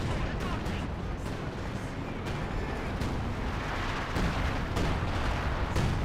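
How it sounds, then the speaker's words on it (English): Soviet artillery barrage in Company of Heroes 2, a steady rumbling wash of distant shelling with scattered sharper thuds and cracks running continuously throughout. "More Soviet artillery looks like."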